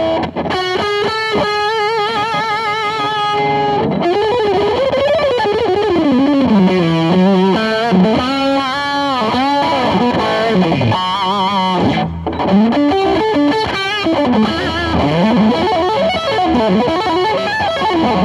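A Vigier electric guitar with its boost switch off plays a sustained melodic lead with sliding, bending notes and a thick, distorted tone, alone and steady for the whole passage.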